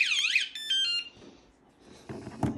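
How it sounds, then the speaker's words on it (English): A kayak theft-deterrent alarm going off: a loud, close electronic siren with a rapidly warbling tone, then steady repeated high beeps, fading into quieter handling noise before a few muffled thumps. "if they keep going, then the alarm goes off"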